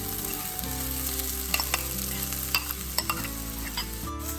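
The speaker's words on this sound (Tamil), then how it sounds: "சின்ன வெங்காயம் இப்போவே நான் போட்டு திரட்ட போகிறேன்" Small onions fry in a pan for sambal while being stirred, a constant close sizzle with repeated sharp scrapes and taps of the spoon, no talking.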